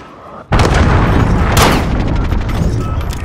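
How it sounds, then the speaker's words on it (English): An allied cruise missile strikes in a Call of Duty: Modern Warfare Shipment team deathmatch, hitting as a sudden, very loud close boom that rolls into a long, heavy rumble and crackling debris. "Allied cruise missile away."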